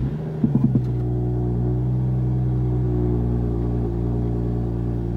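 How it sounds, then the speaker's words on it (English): A car engine cranks in a brief cluster of bursts, catches and settles into a steady, close idle rumble that runs to the end with no talk. "And we'll start up the engine."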